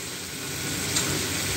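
Chicken fries in a pan with a steady, dense sizzle that swells slightly and stays constant throughout, close and fairly loud with no voices.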